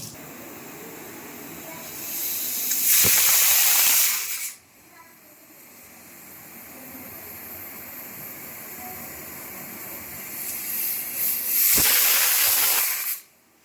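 A pressure cooker cooking potato and chickpea dal vents two loud hissing whistles, each lasting about two seconds and several seconds apart, with quieter kitchen rumble in between.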